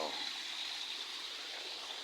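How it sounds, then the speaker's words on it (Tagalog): A mountain stream in Sorsogon City flows with a steady, close, broadband rushing and burbling of water and no break. "So ito ang Sapa dito sa Kawayan Pad, dito sa mountain place ng Sorsogon City"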